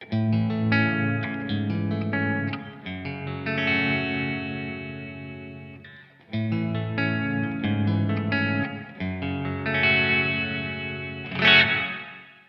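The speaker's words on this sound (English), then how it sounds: "So this kind of setting is the most kind of normal reverb." An instrument played through a Walrus Audio SLÖTVÅ multi-textural reverb pedal on a plain reverb setting with low decay rings out in two phrases of sustained notes and chords, each fading with a short tail.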